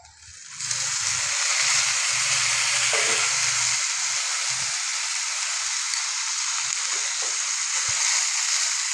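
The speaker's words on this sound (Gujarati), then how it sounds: "તો હવે અંદર આપણે ટામેટાં નાખી દઈએ કાપેલા" Chopped tomatoes land in a hot pan of oil while cooking a Gujarati sev tameta shaak, setting off a loud, steady sizzle and hiss that continues without letup, with faint stirring clatter beneath it.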